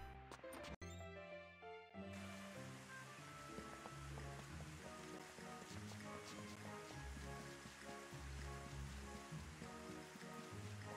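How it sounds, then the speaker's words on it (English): Steady rain pours in Rune Factory 5, a dense continuous patter over a background game melody, following a brief musical chime at the start. "The sound of the rain makes everything else seem pointless."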